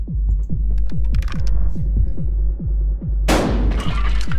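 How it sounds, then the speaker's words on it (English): A shotgun blast at an opponent in the video game Buckshot Roulette, a single loud, close burst with a broad roar that comes after a steady throbbing thump pulse and a low hum. "Then we're going to shoot him."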